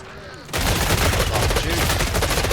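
Dense, loud automatic gunfire from the Killing Floor 3 video game erupts suddenly after a quieter moment and continues as a rapid, unbroken barrage.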